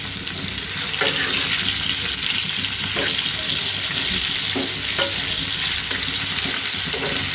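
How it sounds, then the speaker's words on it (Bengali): Chicken pieces fry in hot oil in a pan, cooked extra crisp in a home kitchen, giving a steady, loud sizzle throughout with occasional stirring scrapes and no talk. "আর একটু কড়া করে ভাজি, মানে ছেলে আবার একটু কড়া ভাজা খেতে চাই।"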